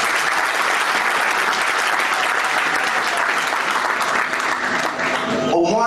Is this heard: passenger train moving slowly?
no